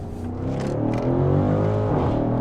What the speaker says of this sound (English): The exhaust really helps amplify the experience. Here we go, up the hill.